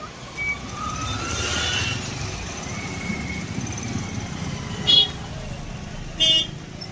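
Busy road traffic near Mhalunge MIDC in Chakan, on the Chakan–Mumbai road, rumbles steadily with engines while two short car horn toots sound at about five and six seconds.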